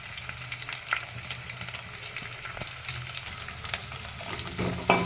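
Curry leaves and slit green chillies fry in hot oil in a pan, crackling and sizzling steadily up close, with light stirring scrapes and a few sharper pops near the end.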